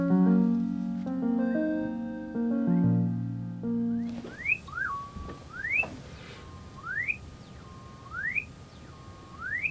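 Steady electronic synth notes, then a harsh noisy hiss crossed by repeated rising whistle-like sweeps from a faulty Yamaha TX7 FM synthesizer, loud and close.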